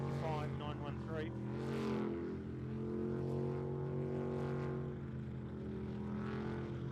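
A race boat with a 500 horsepower L98 engine drones steadily at a distance, its pitch rising and falling as it works through the course, while a commentator talks over the engine noise.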